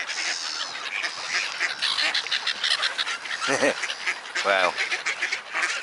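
Ducks quack in a short run of harsh calls near the middle and again toward the end, amid a noisy flock of birds at a feeding spot where bread is being thrown, with a man's brief exclamation over the constant chatter.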